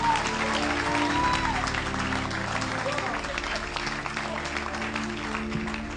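Church congregation applauding and cheering during a prophetic worship service, a steady dense wash of clapping and crowd noise held at even loudness throughout, with voices mixed into the din.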